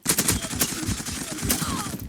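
Rapid bursts of M4 automatic rifle fire in the video game Zula, sharp cracks in quick succession, loud and close.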